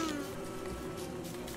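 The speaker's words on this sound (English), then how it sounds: "You got killer bees on you." Killer bees buzz in Don't Starve Together, a steady, close insect drone with a wavering tone that holds under faint game sounds through the short stretch.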